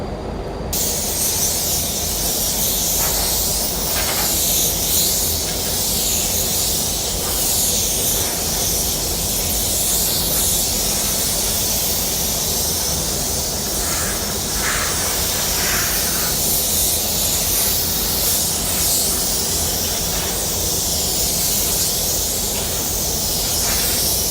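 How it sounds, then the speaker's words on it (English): A loud, steady blast of compressed air from a ProStat anti-static air gun hisses continuously for the whole stretch, close by, while cleaning a panel before painting, with small fluctuations and no talking. "The static gun I am using is the ProStat."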